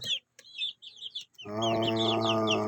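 A mixed flock of chickens, including Black Australorps, clucks and chirps nearby, with short scattered calls first and then a louder, sustained chorus of overlapping clucking.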